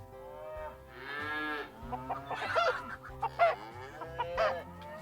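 Farm animals in the video game Farm Manager World: cows mooing with chickens clucking, a mix of drawn-out lowing and short cackling calls over a steady low ambient hum, moderately loud and without talk.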